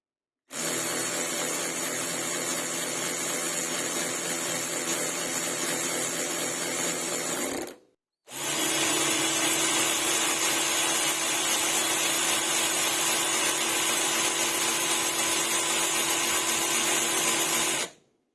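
Milwaukee M12 and Parkside 12 V cordless ratchets spin freely with no load, each giving a steady high mechanical whir and buzz, one running about seven seconds, then a brief pause before the second runs for roughly ten seconds.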